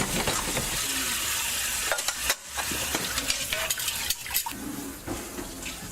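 Dishes, cutlery and pots clatter and scrape continuously at the sink while cleaning up after a family meal, close and busy, with a brief pause midway.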